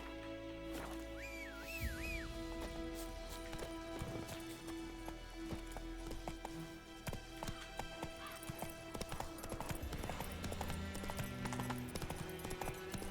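A horse in The Witcher 3: Wild Hunt trots along with rhythmic clip-clopping hooves throughout, a whinny early on, game ambience behind, no talking.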